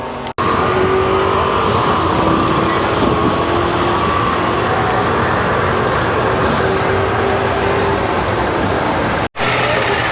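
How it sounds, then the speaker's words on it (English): Drag racing engines roar steadily at a distance at a classic car show, a continuous loud drone of racing cars with rising tones, cut by a brief gap near the end. "there is drag racing happening"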